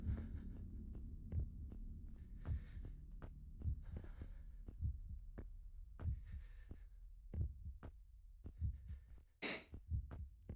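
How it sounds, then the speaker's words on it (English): Thudding heartbeat effect from the video game Inside, a steady series of low, soft pulses repeating about once a second, close and prominent over a dull background hum, with a brighter hiss near the end. "the way that the breathing and heartbeat change as you're running and moving into small spaces"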